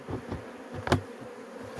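Bees buzzing around a wild honey hive in a dry tree stump, a close droning hum with a few brief louder passes near the microphone.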